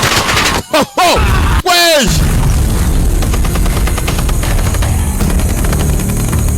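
Gunfire and heavy booms from a dubbed Indian action movie, with several sharp loud blasts in the first two seconds followed by a sustained rumbling, noisy background.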